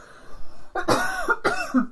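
Two close, harsh coughs in a row, each a rough burst with a brief pause between them.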